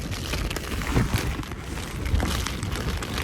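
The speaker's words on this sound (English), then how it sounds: "Rain has started." Rain falls steadily at a riverside campsite on the Devils River, a dense broadband patter with wind gusts mixed in, continuous and fairly close throughout with no one talking.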